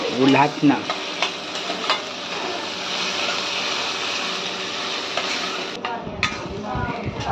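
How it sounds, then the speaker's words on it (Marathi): A spatula scrapes and stirs tomatoes in a hot pan, mashing them with a dense, sizzling hiss and some clatter at the start. A brief voice is heard near the opening. "त्याला थोडासा आता मॅश होतपर्यंत आपण त्याला असं करत राहू, हलवत राहू उलटण्याने"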